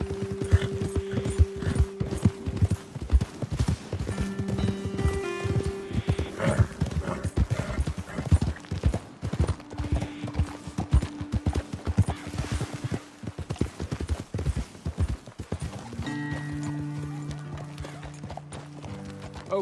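Horse hooves beat a fast, steady clip-clop for the whole stretch in Red Dead Redemption 2, close and clear, with tonal game music sustained in the background.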